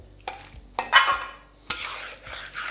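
Mixed winter vegetable curry with roasted spice is stirred in a pan, giving a few scraping, clattering strokes of a spoon against the vessel between quieter pauses, close by, with no talking.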